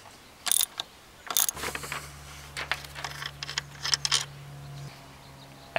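Ratchet wrench clicking as 12 mm bolts are loosened near the ignition module on a Taurus SHO engine: short bursts of close, sharp ratcheting and metallic clicks, fairly quiet, with a steady low hum underneath.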